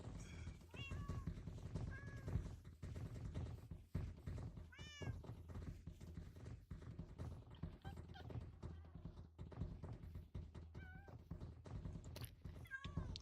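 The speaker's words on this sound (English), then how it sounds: "now I have way too many kitty cats all running around with me" Several cats meowing in Minecraft, repeated short mews scattered across the clip over steady game background sounds and thumps.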